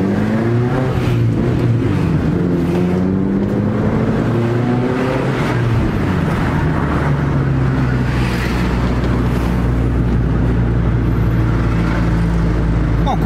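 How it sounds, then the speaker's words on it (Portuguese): A car fitted with a Race Chrome RCI Go Power 5-inch sport muffler revs close by, its exhaust note climbing through several throttle blips before settling into a steady, sustained drone with faint talk underneath. "Vamos dar umas aceleradas pra gente ver como ficou a sensação desse barulho."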